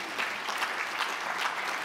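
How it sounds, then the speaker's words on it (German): An audience claps steadily throughout, a dense, even wash of applause with no talk over it. "Das kann mit einem Applaus bedankt werden."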